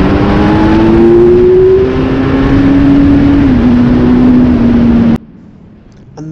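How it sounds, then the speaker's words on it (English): A Kawasaki Z900 motorcycle engine roars loudly at high revs, pitch climbing as it accelerates hard out of a corner, then cuts off abruptly near the end. "It makes a fantastic noise when you power it really hard out of a corner"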